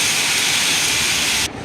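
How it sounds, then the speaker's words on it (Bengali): Cashews and raisins frying with cumin seeds in a hot wok give off a loud, steady hiss that cuts off abruptly near the end. "তারপর কড়াইতে জিরা ফোড়ন দিয়ে কাজু কিশমিশ ভেজে নিচ্ছি।"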